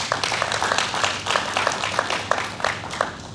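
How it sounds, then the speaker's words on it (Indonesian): A church congregation claps along at a Saturday worship service, a steady dense patter of many hands with rhythmic accents, fairly close and filling the room, with no talk over it. "Tepuk tangan buat Tuhan."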